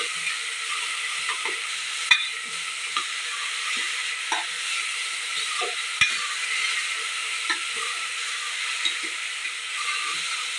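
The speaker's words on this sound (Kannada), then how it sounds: "ಉಪ್ಪು ಹಾಕಿದ ನಂತರದಲ್ಲಿ ಇದನ್ನು ಮತ್ತೊಮ್ಮೆ ನಾನು ಚೆನ್ನಾಗಿ ಫ್ರೈ ಮಾಡ್ಕೊಳ್ತೀನಿ." Sprouted horse gram fries in a pan with a constant close sizzle, broken by repeated scrapes and clinks of a spoon stirring at irregular intervals.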